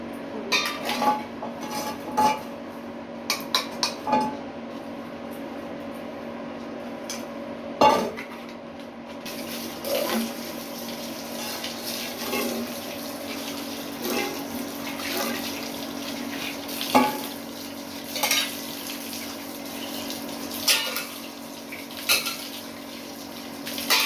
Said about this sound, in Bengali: এই যে পূজার বাসন মারে দিচ্ছি, পূজার বাসন মারে দিই।